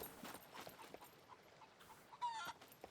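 A chicken clucks softly in short, scattered bursts in the video game SCUM, faint and somewhat distant, with a brief louder squawk near the end.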